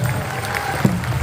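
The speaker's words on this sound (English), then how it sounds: "How about a round of applause, ladies and gentlemen?" An audience at an indoor powwow applauds, a dense wash of clapping from a large packed crowd filling the short moment without a break.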